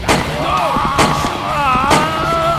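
Gunshots in the adventure game Yesterday: three sharp broadband bangs roughly a second apart, set over a steady musical bed with tonal melody lines running between them.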